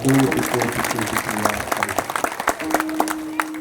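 An audience at a Hindu devotional gathering marking the close of a week-long religious observance claps loudly in a burst that thins out into scattered claps, while a tonal voice or instrument holds notes over it.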